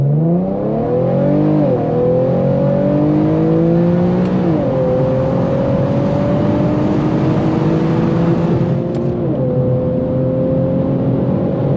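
Infiniti Q50 fitted with aFe drop-in air filters, driven in manual mode with paddle shifters, revving up loudly from inside the car with several distinct downshift blips as engine pitch rises and steps.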